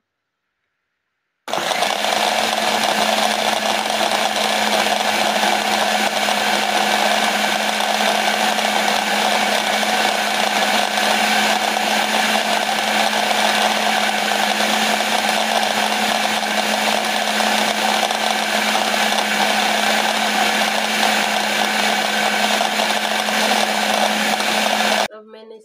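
An electric food chopper runs loudly and without a break for about twenty-four seconds, a steady whirring motor drone that starts abruptly and cuts off at the end.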